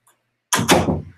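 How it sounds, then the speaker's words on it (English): A door swings shut indoors with a single solid thud, loud and close, after near silence, with a brief rattle as it settles. "Let me close the door"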